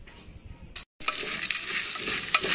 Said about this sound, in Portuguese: tô fritando uma linguiça, gente, o arrozinho e o feijão